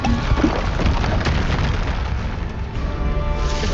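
A Bombarda blasting spell from the Hogwarts Legacy video game, heard as a dense, loud, sustained boom with crackling debris filling the whole clip, with no pause.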